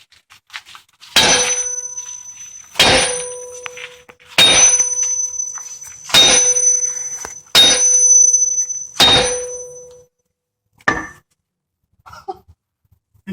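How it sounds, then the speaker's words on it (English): A 20-pound hammer strikes a Wilton 8-inch 1780 vise to knock out a stuck jaw: six loud, ringing metallic clangs about a second and a half apart, then a couple of lighter knocks. "20-pound hammer."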